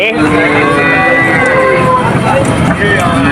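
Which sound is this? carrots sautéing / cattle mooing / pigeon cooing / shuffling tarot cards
cattle mooing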